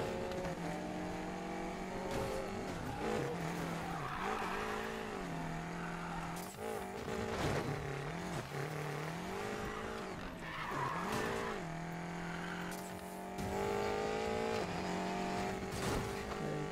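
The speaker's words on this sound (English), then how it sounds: "This thing cannot get out of a freaking drift." BMW X6 M drifting in the Need for Speed Payback racing game: a loud, close engine roar rises and falls in pitch over continuous skidding tire noise, with no talking.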